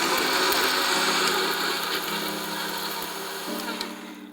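Mixer grinder running, its motor whining loudly and steadily while warm ingredients are ground to a dry powder, with the pitch shifting slightly as the load changes and the rattle easing toward the end.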